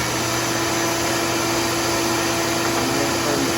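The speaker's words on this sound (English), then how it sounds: "First, I'm going to turn the vac on." A shop vacuum serving as a planer dust collector runs steadily and close, a constant whooshing drone with a faint hum and no other sound.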